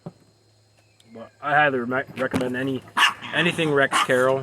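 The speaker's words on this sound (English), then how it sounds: "Sorry about the dog." A neighbors' dog barks in the background, a few faint barks mixed under a man's close, continuous talking indoors, with insect chirps faintly present.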